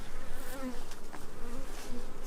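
Honeybees buzz around a hive of nucs, a close, steady droning swarm with individual bees whining past, continuous and fairly loud with no talking.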